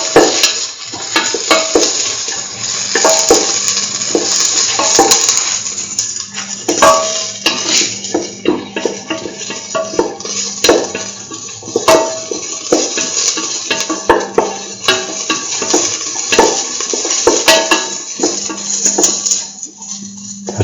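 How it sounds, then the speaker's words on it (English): Curried lentil rice sautés in a pan, with a loud, continuous scrape and clatter of a spatula against metal over a soft sizzle and occasional sharp clinks, and no talking. "Keep on sauteing."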